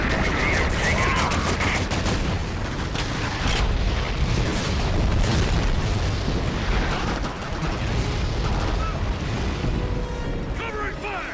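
Heavy gunfire and booming explosions fill a battle in Medal of Honor European Assault, set in the Battle of the Bulge, as a loud, continuous barrage of rapid shots with voices mixed in.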